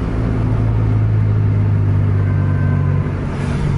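Heavy Scania truck engine rumbling steadily and close, a deep continuous drone with no talk over it.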